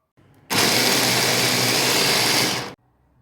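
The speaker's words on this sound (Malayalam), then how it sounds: "അരിഞ്ഞെടുത്ത ഇല നമുക്ക് ഇത് ചോപ്പറിലോട്ട് ഇട്ട് കൊടുക്കാം" An electric vegetable chopper whirs loudly, cutting up sliced cauliflower leaves in one steady burst of a little over two seconds, with a faint quiet hum at either end.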